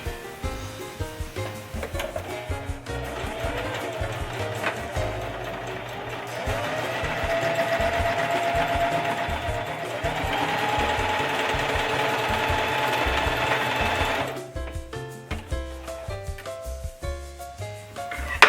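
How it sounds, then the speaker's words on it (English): A sewing machine runs a quarter-inch seam down a fabric crib sheet, close and loud, its motor whirring in a long steady stretch broken by brief starts and stops. "we're going to sew a 1/4 inch seam down from the top to the bottom"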